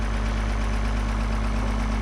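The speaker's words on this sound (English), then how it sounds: "Okay, so Bryce went up and got our hydro tractor." A hydro tractor engine idles on a farm with a steady, loud low rumble and constant hum, with no break across the short stretch.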